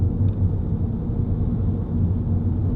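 Vauxhall Zafira 1.9 CDTi 16v diesel engine idling on tick over as the car pulls uphill, a steady low rumble heard from inside the cabin throughout.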